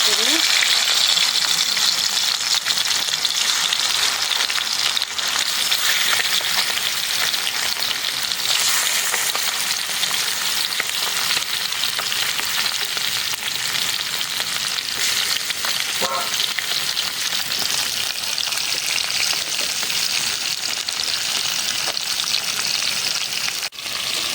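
Fish fries in hot oil with a loud, steady, hissing sizzle that crackles without pause, a faint metallic clink partway through.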